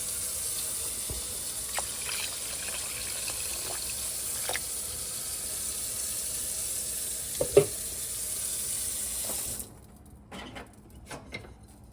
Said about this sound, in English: I'm gonna add about 32 ounces of water